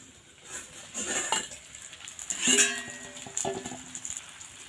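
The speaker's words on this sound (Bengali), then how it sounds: "এবার কিন্তু ঢাকনাটা খুলবো।" A lid comes off a cooking pan of mourala fish cooked in banana leaf, with a bright metallic clink near the middle, light scraping clatter around it and a soft sizzle underneath.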